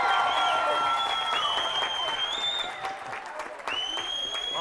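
A Stoneham high school hockey crowd cheers and applauds as a penalty is called, steady clapping and whoops at a moderate distance with a dip partway through, and a commentator talks over it.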